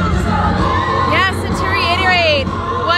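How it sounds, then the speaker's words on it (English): An outdoor rally crowd awaiting President Trump in Martinsburg, Pennsylvania, whoops and cheers in scattered rising calls behind someone talking steadily in the foreground. "this crowd is going absolutely crazy for this little show that's being put on for them with the aircrafts"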